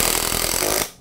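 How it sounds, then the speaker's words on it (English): An impact drill drives heavy-duty, aggressively threaded screws into Osage orange wood, giving about a second of loud, dense, rattling mechanical buzz up close that cuts off sharply at the end. "we're going to use an impact drill to go into here."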